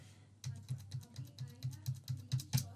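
A phone number is entered on a computer keyboard: a quick run of about a dozen crisp, close key taps in steady rhythm, with no talking.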